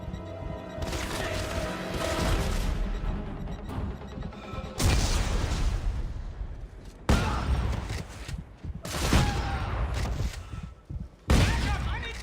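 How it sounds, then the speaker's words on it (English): Gunfire from the Dead Space 3 video game, heavy bursts of shots and booming blasts in several loud waves with brief pauses between, and game voices shouting among the shooting. "Shoot him! He's over there!"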